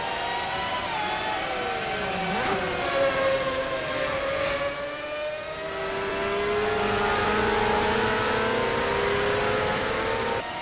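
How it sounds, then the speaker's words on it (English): A Formula 1 car engine from NASCAR Racing 2003, racing at Shanghai, screams past with a high, rising and falling whine and held revs, loud and close, and no talk. "you hear the sound of that Formula 1 engine go flying by"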